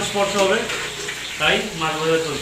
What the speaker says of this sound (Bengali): এইদিকে মাছ ভাজা চলছে